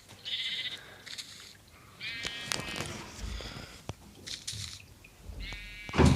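Blue sheep in the video game Minecraft bleat several times, short nasal baas from a flock heard close, with some scraping game noises between them and no talking over the calls.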